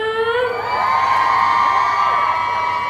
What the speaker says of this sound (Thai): ขอเสียงกรี๊ดดังๆส่งอีกทีได้ไหมคะ